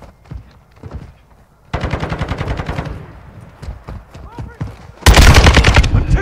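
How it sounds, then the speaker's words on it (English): Video game gunfire from a military shooter, with rapid automatic bursts that arrive in loud rattling volleys, one about two seconds in and a heavier one near the end, separated by scattered single shots and game voices. "I'm taking fire!"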